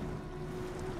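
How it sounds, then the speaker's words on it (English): The electric Edison Motors L750 truck in SnowRunner gives off a steady, even motor whine with a continuous drone and no diesel engine note. "You just kind of have like motor whine"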